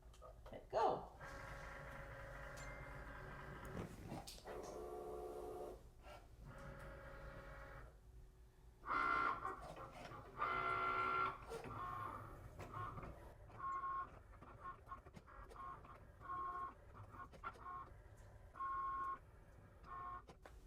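A Cricut Maker cutting machine works through a double-sided print-then-cut job, giving quiet whirring carriage passes and short motor bursts in stop-start bursts, faint and fairly close.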